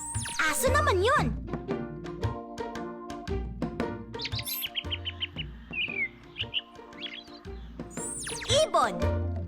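Bright bird chirps and tweets come in quick repeated bursts over a light musical backing, with a couple of sweeping whistle tones.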